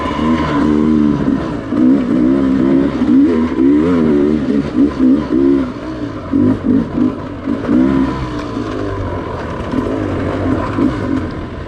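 A Sherco dirt bike engine fires up and revs hard, loud and close, its buzzing two-stroke-like pitch rising and falling through repeated throttle blips for the whole stretch.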